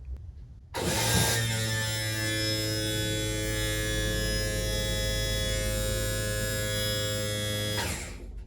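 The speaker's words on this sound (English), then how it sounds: "we are now going to lower the Outdrive." Electric trim motor on a boat outdrive lowering the drive unit, a steady close electric whine with tonal hum that starts abruptly, holds evenly for about seven seconds, then cuts off.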